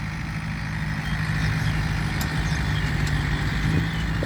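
Tractor engine idling steadily in a field, a continuous low mechanical rumble with a faint hum, fairly close and alone without any talking.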